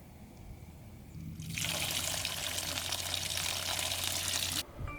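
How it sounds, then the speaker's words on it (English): Water pours steadily into a 5-gallon bucket, supplied for timing a Stihl RB800 pressure washer's fill rate; the loud rushing begins suddenly after a quieter start and runs on evenly before cutting off near the end. "So I'm going to turn this on and time it and see how long it takes to fill up this 5-gallon bucket."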